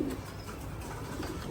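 A Pankhi pigeon, an original breed kept on a pigeon farm, coos softly and steadily close by, with low murmuring calls running through the whole short stretch and no talk over it.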